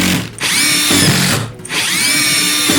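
An Ubermann 18V impact driver drives a screw into wood in loud, close bursts, its motor whine rising with each run and stopping twice for brief pauses.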